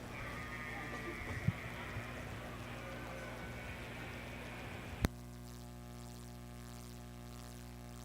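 Hampshire ewe lambs bleat faintly over a steady low hum in a junior breeding sheep show ring at a state fair, with a sharp click before the background drops away to a quieter drone.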